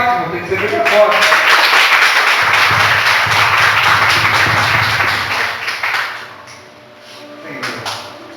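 A church congregation applauds more forcefully, many hands clapping hard and close with sharp individual slaps, building for several seconds before fading into a few scattered claps and voices.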